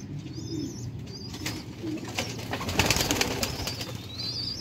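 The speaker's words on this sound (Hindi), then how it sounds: "VIP सियालकोटी कबूतर।" Champion-breed Sialkoti pigeons coo in low, repeated murmurs, with scattered thin chirps and faint rustling throughout, close by and steady.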